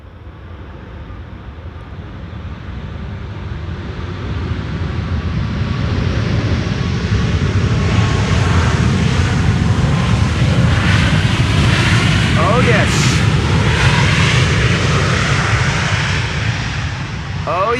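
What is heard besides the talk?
WestJet airliner landing at Schiphol Polderbaan runway 18R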